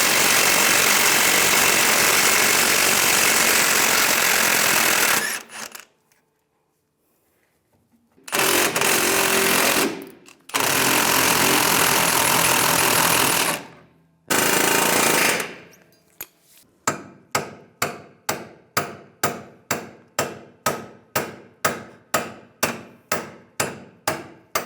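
Removing a leaf spring shackle bolt on a 2007-2013 Chevrolet Silverado: loud bursts of a pneumatic impact wrench hammering close by, separated by short pauses, then a rapid series of sharp ratcheting clicks.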